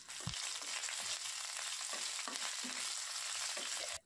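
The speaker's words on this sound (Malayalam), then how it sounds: "2 ഉണക്കമുളക് നുറുക്കിയതും കുറച്ച് കറിവേപ്പിലയും കൂടിയിട്ട് ജസ്റ്റ് ഒന്ന് മൂപ്പിക്കുക" Broken dried red chillies and curry leaves fry in oil in a pan, giving a soft, steady sizzle with occasional light stirring clicks, quiet and close with no talk.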